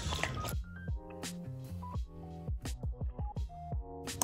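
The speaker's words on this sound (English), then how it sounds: "dogs' tongues like make a little bowl when they drink water" A Samoyed laps water in quick, wet, rhythmic slurps, the laps growing steady and evenly spaced toward the end, with tonal background sounds underneath.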